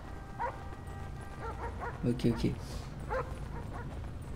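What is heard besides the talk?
dog barking in a video game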